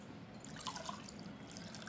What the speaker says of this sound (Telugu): ఇప్పుడు నేను గ్లాస్లో పోస్తున్నాను